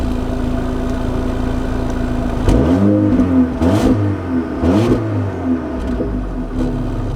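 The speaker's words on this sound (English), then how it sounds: "Let's see how it drives." A 2024 Mercedes GLA SUV hums at idle, then its engine rises and swells through a few revving pulls as it moves off, heard steadily from inside the cabin.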